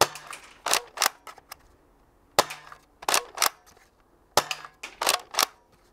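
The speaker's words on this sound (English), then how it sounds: "Let's see what the boost barrel does. Try to fire 6 shots each." Nerf GelFire Ghost gel blaster with a boost barrel fires sharp, snappy shots in three quick bursts, each a cluster of loud cracks close by, separated by brief quiet pauses.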